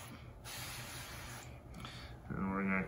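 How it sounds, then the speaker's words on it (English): Duck fat spray hissing from a can onto a prime rib roast before grilling, a steady close spray lasting a couple of seconds, a short pause, then another burst, with a brief tonal clink near the end. "going to use some duck fat spray,"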